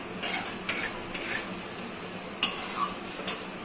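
A kakrol dish is stirred in a pan, with a spoon clinking and scraping against the metal in irregular taps over a soft background sizzle.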